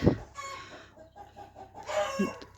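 Chickens cluck and squawk close by, a loud burst at the start and another near the end, with softer clucking in between.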